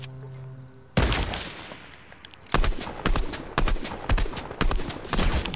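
Sniper rifle shots ring out from Fortnite gameplay in a sharp, loud burst, followed by repeated cracks at roughly regular intervals.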